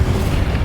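A blast cast with the Incendio fire spell in the Hogwarts Legacy video game, one dense, roaring low boom with a fiery rush that fills the whole short moment, loud and close, with no talk.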